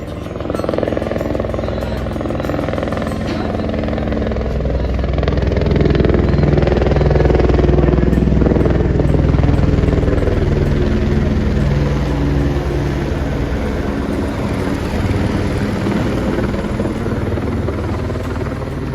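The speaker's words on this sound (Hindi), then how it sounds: "वो देखो हेलीकॉप्टर आ रहा है।" A helicopter on the Vaishno Devi pilgrimage route comes in to land at a helipad, its rotor chop and turbine roar loud and close, swelling toward the middle and then settling, with voices faintly audible beneath.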